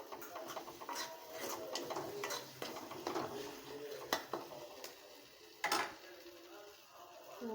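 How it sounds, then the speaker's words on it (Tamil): Masala of ground coconut and onion is stirred in oil for a paarai fish curry, with quiet sizzling and repeated scraping strokes of a spoon against the pan, faint and close. "இப்படி இதுவும் இந்த பச்சை வாசம் போகிற அளவுக்கு இப்படி நல்லா கிண்டி விட்டுக்கோங்க"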